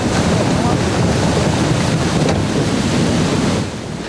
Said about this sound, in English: The pavilion disappears into the waves